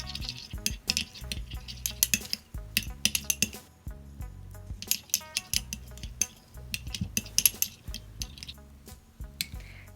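Vaseline and aloe vera lip balm mixture being stirred in a bowl, with repeated close clinks and scrapes of a utensil against the dish in an uneven rhythm, alone without talk.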